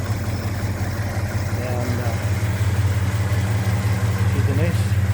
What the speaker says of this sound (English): I'd do another short video of the engine. It's running off high idle now that it's warming up.